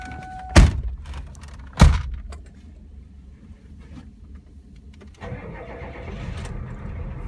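1993 Ford E-350 Super Duty ambulance with a 7.3L turbo diesel engine: two sharp door thumps, then the engine cranks and catches into a steady, loud rumbling idle, no talking.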